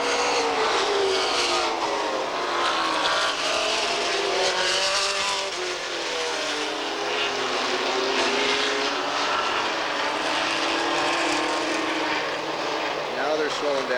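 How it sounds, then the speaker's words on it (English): Super stock race cars at Redwood Empire Raceway in 1985 warm up on the track, producing a continuous droning roar of engines, with rising and falling pitch as the cars pass at middle distance. "warming their cars up"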